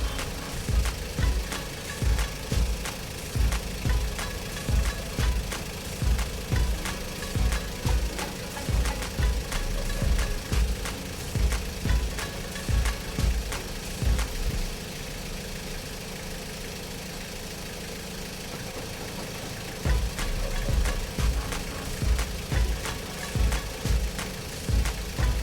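Car engine idling with a drained battery, a steady close-up knocking pulse about twice per second, briefly quieter near the middle before the rhythmic beat returns, with no talk.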